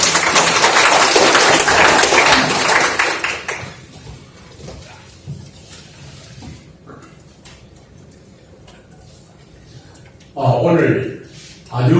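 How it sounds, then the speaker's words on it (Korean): Applause from a seated audience at a science foundation's first-anniversary forum, loud and dense for the first few seconds, then fading into quiet room noise before a voice starts speaking. "큰 박수로 환영해 주시기 바랍니다"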